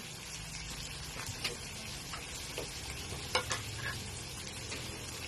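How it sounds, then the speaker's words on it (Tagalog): Red and green peppers tossed into a pan for Abra-style igado, giving a low, steady sizzle with scattered soft scrapes and clinks of stirring, moderately quiet and without talk. "Lagyan natin guys yung ating mga peppers red and green"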